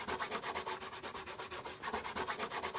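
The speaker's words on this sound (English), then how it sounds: "We remove the masking fluid by rubbing over the surface and just lift off the masking fluid." Fingers rub rapidly back and forth across dry paper to lift masking fluid off a dry watercolour painting, producing a close, steady, rhythmic scratchy swishing with no voices.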